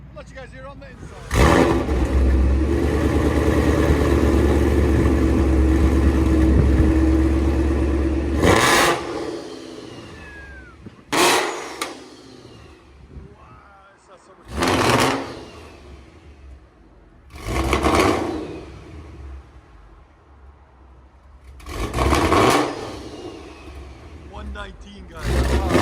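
From inside the cabin, a Procharged Ford Mustang GT 5.0 V8 running E85 with headers and exhaust work holds a long loud drone, then throws a series of sharp rev bursts, with people talking between them.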